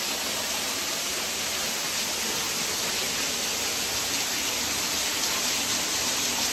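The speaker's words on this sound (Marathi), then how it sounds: "पाण्याचा आवाज खूप आहे." Roaring rush of the Waghbil waterfall near Badlapur, a steady, loud broadband wash of falling water that stays even and close throughout, with no voices.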